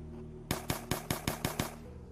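Gunfire in the SCP Site Roleplay video game: a quick burst of about seven sharp, evenly spaced shots over a steady low game hum, loud and close.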